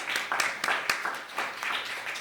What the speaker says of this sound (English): Please give a round of applause to our panelists today.